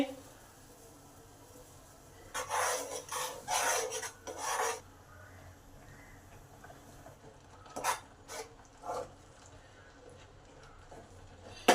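A spoon scrapes and rasps through thick rice flour dough in a pot of boiling water, coming in close bursts of stirring separated by pauses.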